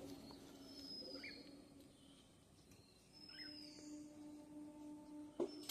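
Pigeons coo softly in the distance over a quiet, faint background, with a few low calls and some light chirps.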